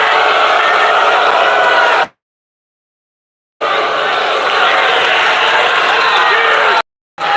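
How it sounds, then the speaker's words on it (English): A large crowd at a UFC 314 press conference roars and boos in a loud, sustained wash of voices, cut off abruptly by two stretches of silence. "we're not used to hearing boos for you"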